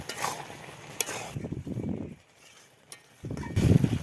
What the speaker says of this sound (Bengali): গরম মশলা দিয়ে নেড়ে এক মিনিট চালিয়ে তারপরে নামিয়ে নেব